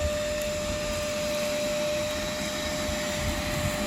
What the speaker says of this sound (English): Now, you just grab a vacuum